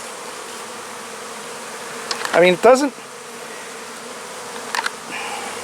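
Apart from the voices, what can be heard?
bees buzzing at hive landing board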